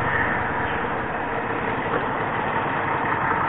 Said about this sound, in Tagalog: Tunog motor talaga.